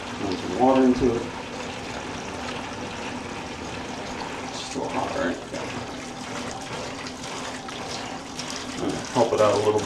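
Water runs from a faucet into a laundry container with borax and soap, a steady splashing flow heard up close with a few louder gushes, and a voice talks over it at times.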